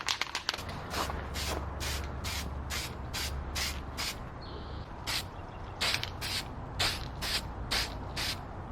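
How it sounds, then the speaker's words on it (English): Aerosol spray paint hisses in a run of short, evenly spaced bursts across a sanded intake manifold being restored, each blast close and sharp, with a low steady hum underneath and brief pauses between passes. "Spray this again and hope it pans out."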